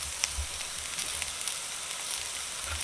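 Sliced onion, hot pepper and chopped garlic fry with potatoes in hot oil, giving a steady, close sizzle that holds at an even level throughout, with no talk.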